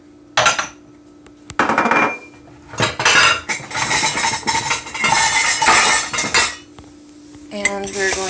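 Clattering dishes and clinking ceramic as a mug is pulled out from a stack, with loud bursts of rattling and a brief pause partway through.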